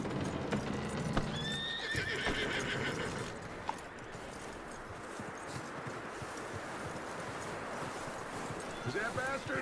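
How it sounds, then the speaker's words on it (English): A horse in the Red Dead Redemption 2 video game gives a loud whinny, and hooves clop steadily beneath a continuous wash of game ambience. "That looks like a decent horse."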